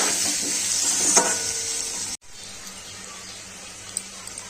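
Potatoes sizzle and are stirred in a pan with onion and turmeric for a stingray fish curry, a steady close fry with scraping strokes that drops sharply to a quieter sizzle halfway through.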